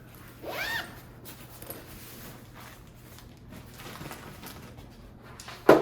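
A zipper pocket on a travel bag is pulled in one short quick stroke early on, faint and close, followed by quiet rustling handling sounds and a soft bump at the end.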